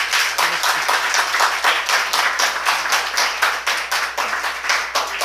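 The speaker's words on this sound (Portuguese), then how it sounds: "Manda uma salva de palmas para Jesus." A church congregation claps in praise for Jesus, welcoming a member back into communion; steady dense applause fills the room throughout, loud and close, with faint voices mixed in.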